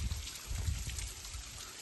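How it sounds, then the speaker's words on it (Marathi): A small waterfall beside the Gomashi Buddhist caves near Pali, running low with little rain, gives a faint, steady trickling wash of water with no talking. "पाऊस नसल्यामुळे हे फार लहानसा वॉटरफॉल आहे"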